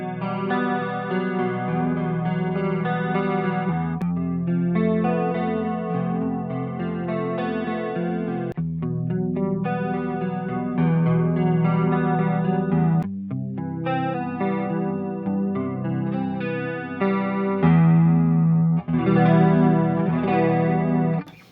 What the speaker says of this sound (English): if you had a chorus pedal, you got a very usable, clean 90s sound